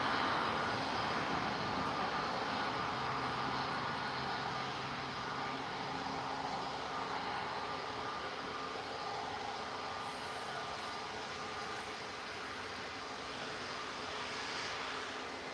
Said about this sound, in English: now we have the EasyJet